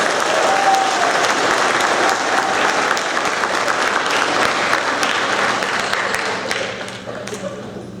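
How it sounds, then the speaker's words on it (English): A school audience at a sixth grade awards event gives a long round of applause for the students, a full, dense clapping that carries on steadily and then thins and softens toward the end. "let's give one more round of applause to these students"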